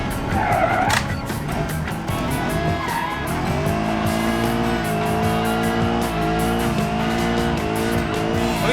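Tires squeal and screech continuously as a car drifts in the game BeamNG.drive, its engine droning loudly underneath with rising and falling pitch.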